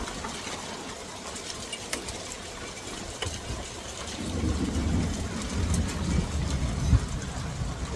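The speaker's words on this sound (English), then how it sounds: "They're about the size of marbles, so about pea-size hail, but it's coming down pretty good." Pea-size hail pours down during a storm in Calgary, Alberta, a dense crackling patter with sharp impact clicks that thickens into a heavier rumble partway through, while a voice murmurs faintly.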